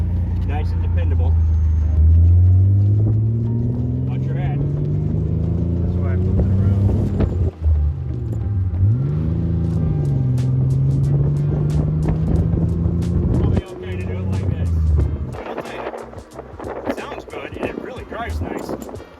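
A Nissan 300Z motor in a small summer car carries a steady low engine drone with wind noise while driving, rising and falling with gear changes, heard close and continuous throughout, with a voice speaking over it.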